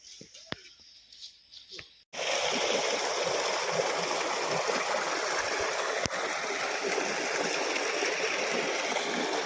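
Water gushes steadily from a borewell outlet, a loud continuous rushing flow that starts abruptly after a couple of seconds of quieter clicks and handling.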